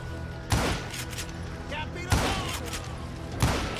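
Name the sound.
gunshots in the video game Call of Juarez: Gunslinger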